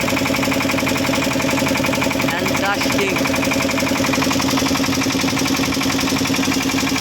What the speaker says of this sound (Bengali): ওই দেখুন পরস্পর দুটো নৌকা একসাথে কিভাবে যাচ্ছে দেখুন, পরস্পর দুটো নৌকা আছে